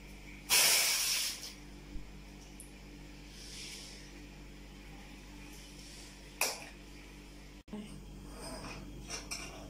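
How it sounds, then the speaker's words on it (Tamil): Strained tomato puree, ground and filtered, hits a hot kadai with a sharp burst of hissing sizzle, then quieter sizzling with a few clinks of utensils and later brief hisses, heard close with no talk. "இத நம்ம வந்து கடாயில ஊத்திக்கலாம்."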